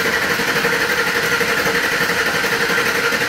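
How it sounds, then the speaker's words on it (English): A car engine cranks continuously without starting during a compression test, the starter driving a steady, fast, even churning rhythm, loud and close with no voices. "And just crank it, and just don't let it start."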